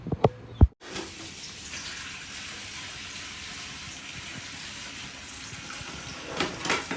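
Water runs from a tap into a kitchen sink while bowls are washed, a steady gushing wash that holds for several seconds after a couple of sharp knocks of dishes at the start, with a few faint clinks near the end.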